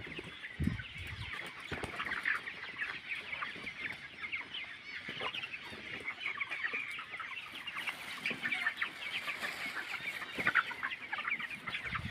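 Chickens clucking steadily on a poultry farm, a dense close chorus of hens with occasional louder calls standing out above the flock.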